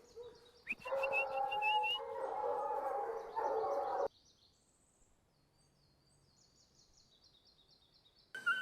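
Foxhounds at hunt kennels howl together in a loud, sustained chorus for about four seconds, then fall quiet, leaving faint birdsong and a short burst of yelping at the end.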